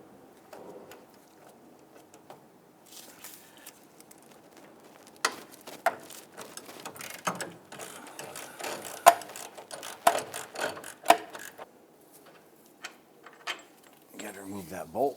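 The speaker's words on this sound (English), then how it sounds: "Now we're using a 19mm with a swivel head ratchet." A 19mm swivel head ratchet loosens a bolt on the front lower control arm of a 2000-2006 Toyota Tundra, making bursts of close clicking that grow louder and more rapid midway, with someone talking at times.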